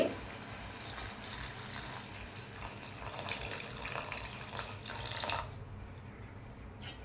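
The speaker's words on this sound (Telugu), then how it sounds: "ఇలాగే వాటర్ వేయాలి" Water pours steadily into a pot of cooking curry for about five seconds with a rushing splash, then cuts off, leaving faint trickles.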